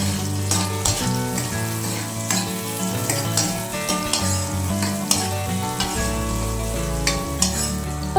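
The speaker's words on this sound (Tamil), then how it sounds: "நல்லா வதக்கிக்கணும்." Two large onions sauté in hot oil in a kadai with a constant crackling sizzle, as a utensil stirs and scrapes against the pan throughout.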